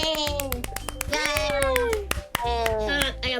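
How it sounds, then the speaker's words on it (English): Applause in Doki Doki Literature Club Plus: quick bursts of sharp hand claps repeat under a bright, chirpy game melody, with a voice speaking over it. "I got the applause button."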